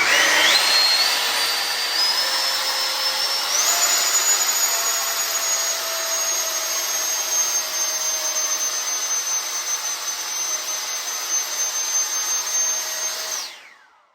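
A 90mm 12s Fun Jet RC electric ducted fan roaring steadily at half throttle, then whining up to a higher pitch at full throttle and holding there before cutting off abruptly.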